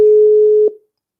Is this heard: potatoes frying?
no